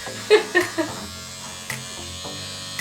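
Electric hair clippers buzz steadily up close while cutting hair at home, with a few sharp voices breaking in over the hum at the start.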